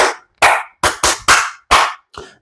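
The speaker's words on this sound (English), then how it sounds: "Clap for them again." Seven sharp, close claps in a loose, slightly uneven rhythm, the last one softer, like a small group clapping together again as a celebration of the 1969 Moon landing's success.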